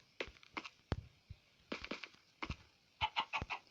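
Chickens on a hen farm clucking in short, separate bursts, a few close and fairly quiet calls spaced irregularly with pauses between them.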